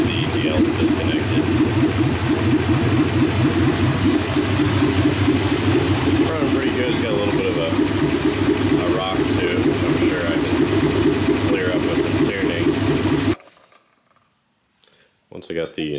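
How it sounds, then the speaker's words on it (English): A 1989 Mercedes-Benz 560SEL with a fuel-injection conversion runs with no exhaust system fitted, giving a loud, raw, steady throb close by. It cuts off abruptly near the end, leaving brief faint clicks. "it actually fires right up. Of course, it's loud right now because there's no exhaust system on it."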